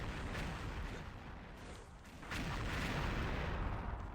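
Shotgun fire against mummies in XSHOT, unlimited ammo: fairly faint, overlapping booming shots in a steady rumble, with a louder cluster of blasts in the second half.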